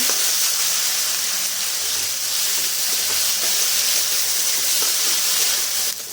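Spice paste frying in a pan for a prawn and mixed vegetable ghonto, a loud, dense, unbroken hiss and sizzle held close throughout, ending with a brief dip.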